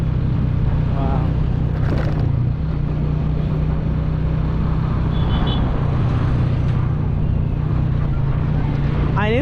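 Steady engine and road rumble from inside a moving vehicle in lunchtime traffic, with passing vehicles and faint horn-like tones over a constant low hum.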